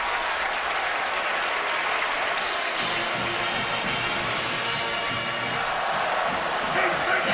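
A packed college football stadium crowd at Clemson, during the Florida State game, roars and applauds in a sustained wash of noise after an incomplete pass, with a commentator talking over it.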